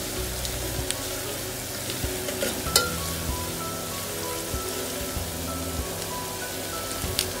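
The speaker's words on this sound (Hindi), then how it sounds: "अच्छी तरह से फ्राई करना है हमें, गोल्डन नहीं करना है, ट्रांसपेरेंट ही करना है।" Onions sizzling in oil for sprouts pulao, a steady close crackle with scattered pops and spits throughout and no talk over it.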